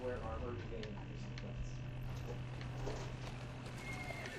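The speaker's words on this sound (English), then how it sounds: "I can't drive the horse carriage any better than I drive any other stuff." A horse-drawn carriage in Assassin's Creed Syndicate clip-clops along with a neigh amid a steady low hum, while someone talks over the noise.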